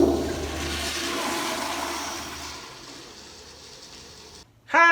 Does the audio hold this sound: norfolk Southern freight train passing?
no